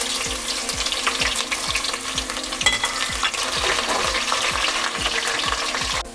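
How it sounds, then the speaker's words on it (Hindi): Medium-sized chopped onions frying in hot oil, a dense steady sizzle with a regular scraping of a spoon stirring the pan at a brisk, even rhythm, close and alone without speech. "अब ये प्याज जो हमने एक पहले से मीडियम साइज़ की काटी हुई थी इसको हमने फ्राई करके निकाल लिया है।"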